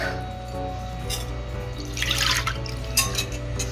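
Milk is poured for chocolate cupcake batter, giving a soft liquid splash and trickle that swells briefly near the middle against a low steady background hum, with no voices.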